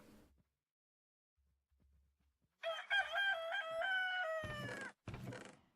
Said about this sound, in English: Damn the rooster.